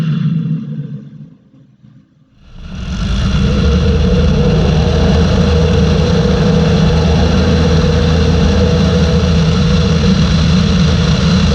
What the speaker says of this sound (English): Now I'm going to let you listen to the actual audio of what the power sounds like when it comes on the airplane.